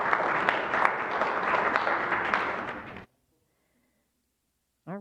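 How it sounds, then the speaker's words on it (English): Congregation applauding at a Sunday church celebration service, a dense, steady wash of clapping for about three seconds that cuts off abruptly, followed by near silence and a brief voice at the end. "they deserve applause"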